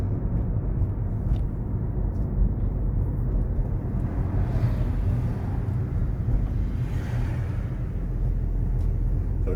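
Car engine pulling uphill as power is increased, a steady low rumbling drone that holds level and continuous from start to finish.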